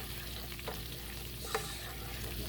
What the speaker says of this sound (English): I don't want to burn the garlic. Melt the butter.